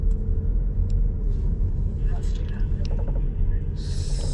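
A car drives along at night during a trash-picking outing, its engine and road noise forming a steady low rumble throughout, with a few faint higher rattles on top.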